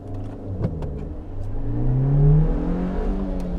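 A Suzuki Jimny XL 5-door accelerates hard in first gear from a standstill, the engine note rising steadily in pitch as revs climb, loud and close, with no speech.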